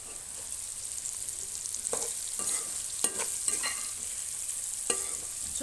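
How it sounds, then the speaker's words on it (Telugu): Curry is stirred in a pan, a soft background sizzle broken by several distinct scraping strokes of a spoon against the pan, close by and without speech. "ఇలాగా కలుపుకోవాలి, అంతేగాని ఇలా కలపకూడదు."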